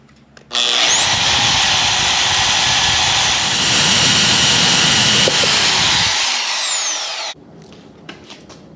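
A bandsaw cuts steel pipe legs guided along a length of angle iron, giving a loud, steady grinding whine that runs for about seven seconds, then stops abruptly, leaving quiet room tone.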